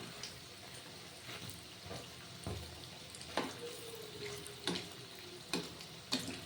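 Urad dal rosh bora fritters fry in hot oil with a soft, steady sizzle and scattered light crackles and pops, fairly faint and heard with no voices.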